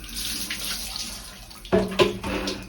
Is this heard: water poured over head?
yes